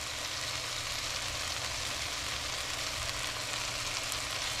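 Chopped onion sizzles in a pan for a chicken spaghetti stir fry, a dense, even, close hiss of frying that holds steady from start to end with no talking.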